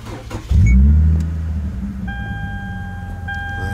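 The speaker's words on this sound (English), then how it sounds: "I'm gonna start driving right now." A car engine turns over and catches with a loud close roar, then settles into a steady idle as the vehicle prepares to pull away.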